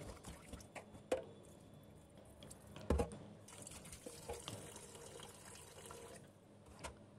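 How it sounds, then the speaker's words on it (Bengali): Chopped elephant yam pieces washed in water at a kitchen sink, with running tap water, splashing and a few sharp knocks of pieces and bowl, close and moderately loud. "এবার একটু ভালো করে ধুয়ে নেব।"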